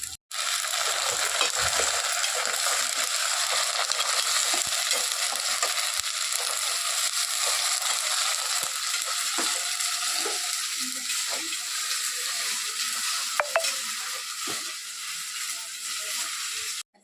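Ginger-garlic paste sizzles and fries steadily in a hot pan for the whole stretch, a dense continuous hiss with a few faint clinks and stirring scrapes.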